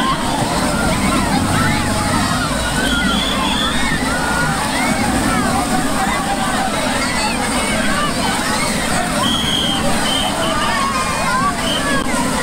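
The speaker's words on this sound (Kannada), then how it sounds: "ಮೇಲಿಂದ ವಾಟರ್ ಫಾಲ್ ಎಲ್ಲ ಹಾಕ್ತಾ ಇರತ್ತಲ್ಲ, ಅದು ಬ್ರೀಸ್ ಸಖತ್ತಾಗಿ" Water park waterfall in Bangalore pouring from above onto a splash area, a steady dense rushing and splashing wash that stays loud and continuous throughout, with a faint murmur of crowd voices underneath.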